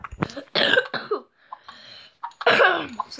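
Someone coughs close to the microphone in several harsh bursts, two clusters separated by a short quiet pause.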